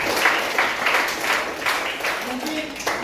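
A classroom group claps for a student team's project, brief, lively applause with several hands clapping close by, and voices mixed in.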